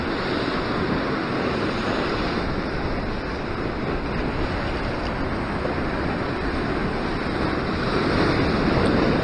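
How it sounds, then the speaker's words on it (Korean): Ocean surf breaking on the shore during sea fishing near Sydney, Australia: a steady, loud wash of waves and wind noise fills the whole stretch, swelling slightly toward the end, with no talk. "파도가 리듬이 있다고 했어요, 항상."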